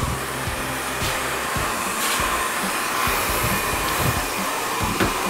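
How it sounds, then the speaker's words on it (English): A hair dryer blow-drying short hair gives a steady, close, loud whooshing hum, with occasional faint brushing or handling noises and no talking. "You're just making sure that you're blow drying with the hair in the direction that you're going to have it"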